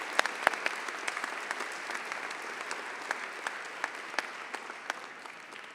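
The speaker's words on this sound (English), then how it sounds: "let's give another round of applause to all of our partners who are standing with us" An audience at a February 2023 town hall on antisemitism and violence applauds steadily, close clapping with sharp individual claps standing out over a dense, even patter for several seconds.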